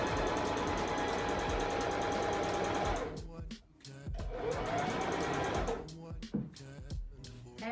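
A sewing machine stitching a hem on napkin fabric, running in a fast steady whir for several seconds, then breaking into short stop-start bursts with brief pauses and clicks, close up with no talk.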